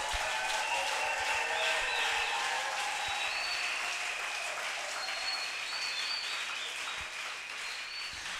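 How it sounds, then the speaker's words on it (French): A church audience applauds for Maman Didine, with steady, dense clapping sustained throughout and gradually easing slightly toward the end, no talk over it. "Est-ce qu'on peut acclamer pour Maman Didine?"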